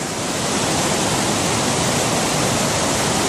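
A rushing mountain stream on the Pacific Crest Trail near Benson Pass pours in a loud, steady roar of water, close by and unbroken, with no voices.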